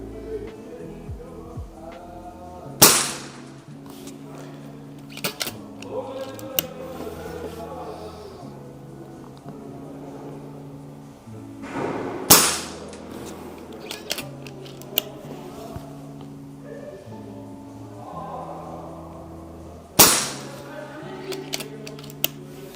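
An FX Dreamline air rifle fires without a moderator: three loud, sharp cracks spaced several seconds apart, with softer mechanical clicks and handling noise in between.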